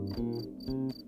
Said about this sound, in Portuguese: esse aí, escondido nesse buraco, é um grilo do campo